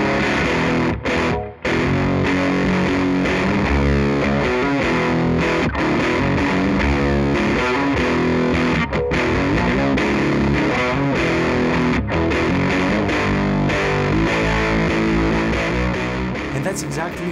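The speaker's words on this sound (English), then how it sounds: "Pandora is in its heart a descendant of the old Fuzz Face" Electric guitar played through a VS Audio Pandora fuzz pedal, a Fuzz Face-style circuit, giving a thick, saturated, sustained fuzz tone with chords and riffs ringing continuously and loudly, with only brief gaps.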